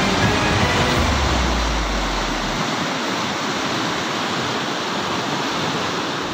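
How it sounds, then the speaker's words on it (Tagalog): Floodwater pours out of a creek in Malabon after a broken tide control gate, making a loud, steady, close roar of rushing water that continues unbroken without any talking. "Ganito kalakas ang ragasa ng tubig palabas sa Kailanan Creek sa Barangay Dampalit, Malabon kahapon ng umaga matapos masira ang Dampalit Tide Control Gate."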